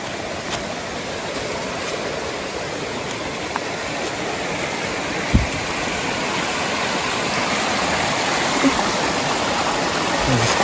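A forest stream crossed by a hiking trail rushes steadily and close, a continuous broadband wash of flowing water with no voices, holding an even level throughout.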